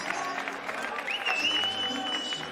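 A stadium crowd at an athletics jumping event in Santa Cruz de Tenerife applauds and cheers steadily after a big jump, a dense wash of clapping and voices throughout with a whistle rising above it.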